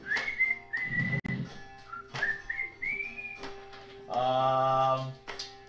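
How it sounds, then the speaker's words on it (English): A person whistles a short, wandering tune in clear sliding notes, close by, broken by brief pauses and a few other noises. "I guess I'm gonna start just whistling"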